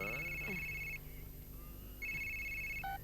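A mobile phone rings from an incoming call in two bursts of electronic ringtone at a steady level, with a constant background hum throughout and a brief pause between the bursts.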